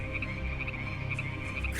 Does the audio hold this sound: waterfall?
no